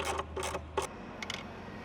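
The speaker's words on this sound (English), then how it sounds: "Now we're going to use the T25 tool we used earlier. We're going to go ahead and remove the screw holding down our air filter." A T25 tool loosens the air filter screw on an Audi R8. Quiet close-up ratcheting clicks and scraping come in short bursts, three fuller strokes followed by a few lighter ticks, with no talking.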